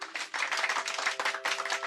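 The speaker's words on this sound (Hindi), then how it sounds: "सब बच्चे शिजुका के लिए ताली बजाओ।" Cartoon classroom children clap for a classmate, a brisk burst of many hands clapping that stops briefly and resumes, close and alone without talk.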